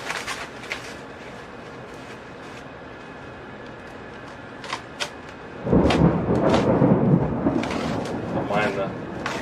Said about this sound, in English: Florida rain all of a sudden.